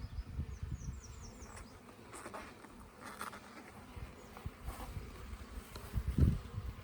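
Honeybees buzz at a hive during a queen release from her cage as the bees are moved from a top bar hive into a Langstroth hive, a soft, continuous hum with faint scattered handling knocks nearby.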